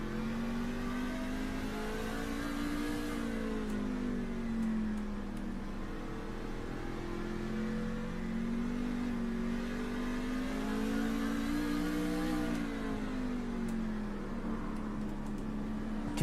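A racing truck engine in iRacing at Lime Rock Park drones steadily with its pitch rising and falling as the throttle is worked, loud and continuous for the whole stretch with no talk over it.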